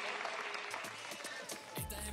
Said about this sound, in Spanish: El aplauso para Tarzán